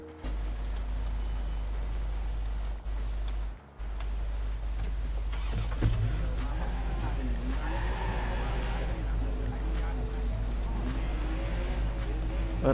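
A loud car engine in the video game Watch Dogs 2 drones steadily throughout, a constant low roar with faint music and game effects layered over it.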